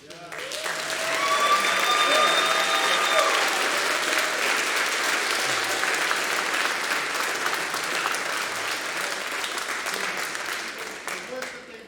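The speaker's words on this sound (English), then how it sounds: "can we just give a big round of applause for" A school fall concert audience claps for two teachers in a long, dense burst of applause that swells early and slowly tapers, with voices mixed in beneath.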